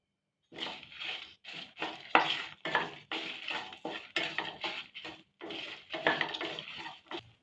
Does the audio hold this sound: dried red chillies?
yes